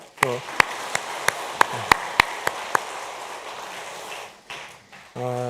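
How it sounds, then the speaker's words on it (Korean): Church congregation applauding at a Wednesday service, a steady wash of clapping with a few sharp loud claps standing out at the start, under a voice that speaks briefly at the beginning and end. "박수 한번 하겠습니다"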